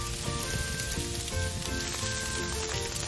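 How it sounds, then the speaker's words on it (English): A burning tree crackles and sizzles in a cartoon, a steady fizzing crackle heard under background music with no talking. "A tree is on fire!"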